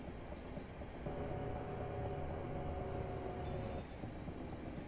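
A Class 465 electric train runs in a Train Simulator 2016 game, a steady rumbling roll with a faint humming tone midway, continuous and quiet, no voices.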